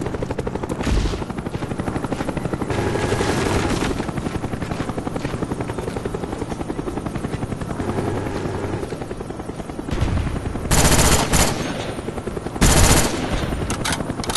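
Cobra attack helicopter from Call of Duty: Black Ops multiplayer, a loud steady rotor drone running throughout, with bursts of gunfire cutting in near the end and no talk.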